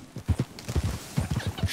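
Horse hooves clip-clopping in Red Dead Redemption 2, a steady run of distinct close thuds with a regular rhythm, heard alone without talk.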